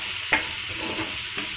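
Masala fries with green peas for kaju curry in a continuous sizzle, marked by a couple of quick scraping stirs against the pan, with no voices.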